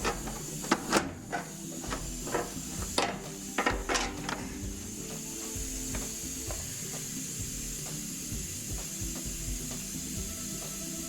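A hand ratchet clicks while bolts and nuts are loosened on a 2002 Dodge Caravan with a no-shift transmission fault, with sharp irregular ratcheting bursts early on, then softer intermittent clicks over a steady background hum.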